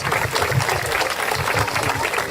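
Applause from a crowd of Jewish faculty and students at an outdoor Friday night Shabbat gathering at UCSD, steady dense clapping sustained throughout, with voices mixed in.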